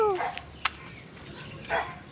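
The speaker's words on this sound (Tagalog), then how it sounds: "May aso." A dog barks somewhere outdoors, two short faint barks a moment apart, distant and thin over quiet background noise.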